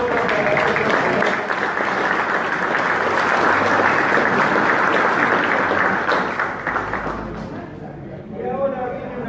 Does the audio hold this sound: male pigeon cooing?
no